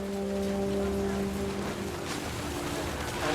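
Heavy rain pouring down on a makeshift family tent in the game What Remains of Edith Finch, a steady wash of hiss throughout with a low background hum beneath it.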